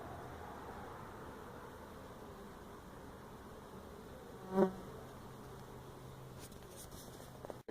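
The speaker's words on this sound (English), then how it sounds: "You can see here's where they're going in and out. Lots of bees." A faint, steady hum of honey bees buzzing at a large hive built into the floor of an apartment building, continuous and low, with one brief louder tone midway and small knocks near the end.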